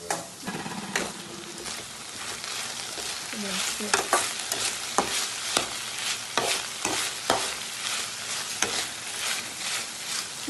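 Sliced ivy gourd (kovakka) stir-fries in a pan for a Kerala-style upperi, a steady sizzle broken by frequent sharp scrapes and clatters of a spatula tossing the pieces, close and fairly loud, with no talking.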